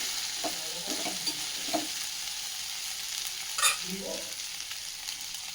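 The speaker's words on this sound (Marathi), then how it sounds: "ही भेंडी साधारण तेलावरती दोन ते तीन मिनटं अशीच आपण छानपैकी परतून घेऊयात" Okra sautéing in oil in a pan, a steady, quiet sizzle of frying with occasional soft stirring scrapes and clinks.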